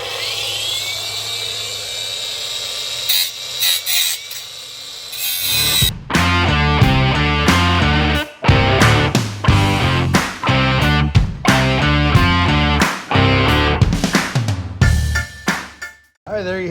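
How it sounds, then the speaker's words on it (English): An angle grinder removing sharp edges from a factory power seat rail for an aftermarket race bucket seat in a Grand Marquis or Crown Victoria, starting with a high whine and then loud, repeated grinding passes with short breaks between them. "I'm just going to take the angle grinder and remove any potentially sharp edges."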